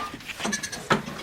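A goat on a farm gives a short bleat, loud and close, with a brief fainter call just before it.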